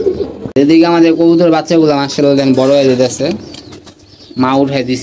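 Young pigeons being raised in a loft coo in low, throaty tones beneath a person speaking close by.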